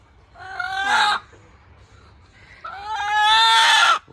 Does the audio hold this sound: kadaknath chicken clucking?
yes